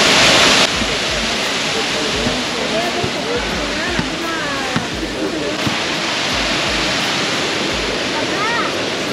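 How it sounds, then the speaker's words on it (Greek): Water rushes loudly and continuously at the springs of Krya near Livadeia, a steady roaring wash filling the scene while people talk in Greek over it. "Πολλά νερά σήμερα, πολλά. Τι νερά, νερά."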